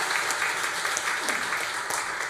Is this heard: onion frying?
no